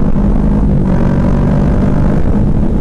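A Kawasaki Ninja 650 motorcycle pulls onto an interstate, its engine a steady loud droning rumble mixed with heavy wind roar, continuous and close throughout.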